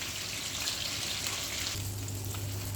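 Salmon frying in a pan, a soft steady sizzle with faint bubbling throughout.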